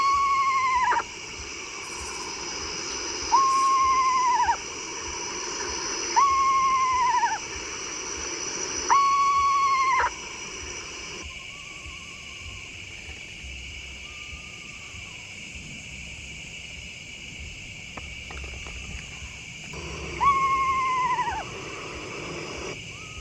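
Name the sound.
screech owl calls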